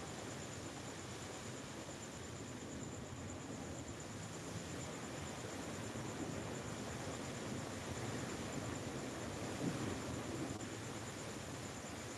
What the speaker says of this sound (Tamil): குளிர் காத்து